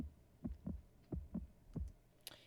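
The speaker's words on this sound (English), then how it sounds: "that is the familiar sound of a mouse's heart beating fiercely, wildly, madly" A mouse's heart beats fast in a sound effect, thumping in close paired pulses, soft and low, with a faint high tick near the end.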